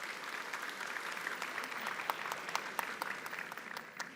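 An audience at a conference applauds, a dense, steady clatter of many hands clapping at a moderate distance, holding even for several seconds with no voices over it.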